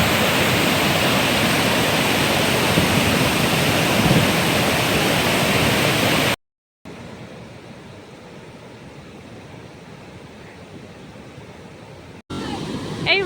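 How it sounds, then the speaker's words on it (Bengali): Bhatinda Falls in Jharkhand, swollen with monsoon water, pours in a loud, dense, continuous roar. After an abrupt cut the rush continues more softly and evenly, as if heard from farther away, with no speech. "বর্ষার কারণে ফলসগুলোতে জল তো একেবারে উপচে পড়ছিল, আর সেই জলের স্রোত বয়ে চলেছে তার নির্দিষ্ট গন্তব্যের দিকে"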